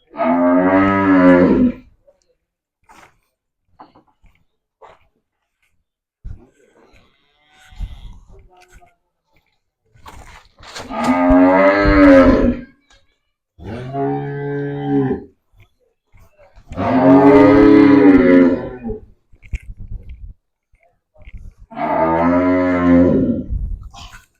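Loud, drawn-out moos from cattle nearby on a farm in Punjab, several long calls separated by pauses with faint background noise between them.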